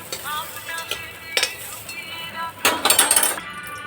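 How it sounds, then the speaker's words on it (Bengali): Fried potato pieces sizzle in oil in a kadai as a utensil stirs and lifts them out, with a soft crackle under clinks and scrapes of metal against the pan. "আলুটা ভেজে নিলাম, ভাজা হয়ে গেছে, তুলে নিলাম।"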